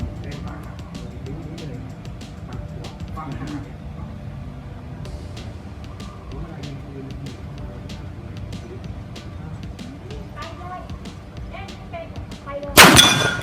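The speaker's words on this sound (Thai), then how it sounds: "สองนัดสองเป้าระยะ 25 เมตร ผู้ยิงพร้อมนะครับ พร้อมแล้วเริ่มยิง" A CZ 97B pistol fired at targets on a 25-metre range, with a single sharp, loud blast near the end after a long stretch of faint background ticking and low rumble, heard from close by.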